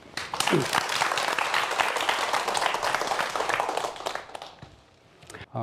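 Audience applause at a Korean science lecture on volcanoes, a dense steady patter of many clapping hands filling the room for several seconds before thinning out and fading near the end.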